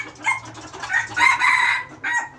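Decoy chickens calling close by, a rooster's crow and hens clucking in a few loud, uneven bursts.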